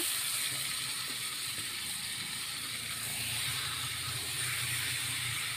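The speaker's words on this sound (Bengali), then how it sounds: "এবার আগে থেকে মেখে রাখা চিকেন দিয়ে দেব।" Marinated desi chicken goes into a hot pan of reddish fried onions for a village-style chicken curry, giving a steady, loud broadband sizzle and hiss that runs unbroken throughout, with faint low clatter and no voices.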